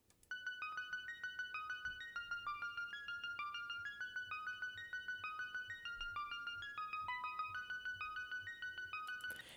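A chiming synth bell arpeggio races through quick repeating notes with a slightly uneven, shifting rhythm, steady and clear throughout.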